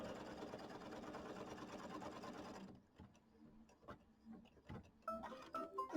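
A sewing machine stitches the quilting on a small December mini quilt, running steadily and close for about two and a half seconds, then stopping, followed by quieter handling and rustling sounds.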